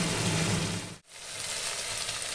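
Onion and tomato frying in hot oil in a pan, a steady loud sizzle with a brief dip in the middle, close up and with no voices.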